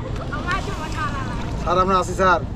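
A boat moves across Nildari Lake in Tekerghat, Sunamganj, with a low steady rumble and wind buffeting the microphone while people talk over it.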